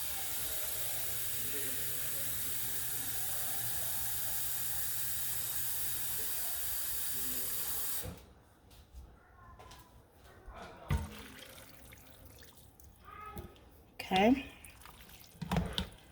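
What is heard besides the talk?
cooking pot being filled with water from the tap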